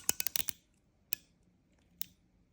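Tension knob on a Brother 546D / Huskylock 435 overlocker serger clicks quietly up close: a quick burst of about five sharp clicks, then two separate single clicks after short pauses.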